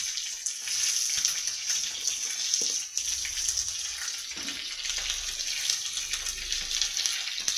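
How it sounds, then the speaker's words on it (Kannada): Three chopped onions frying in oil in a pan for onion sambar give a steady, close hiss and sizzle throughout, with a few faint low bumps underneath. "ಈಗ ಈರುಳ್ಳಿ, ಹೆಚ್ಚಿಟ್ಕೊಂಡಿರುವಂಥ ಈರುಳ್ಳಿ 3 ಈರುಳ್ಳಿ ಹಾಕ್ತಾ ಇದ್ದೀನಿ."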